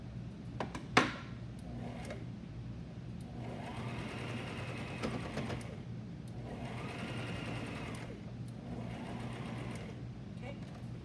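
A sewing machine runs a long continuous stitch over the seams and bumps of boys' pajamas, a steady whirring hum with a sharp clack near the start, while someone talks over it.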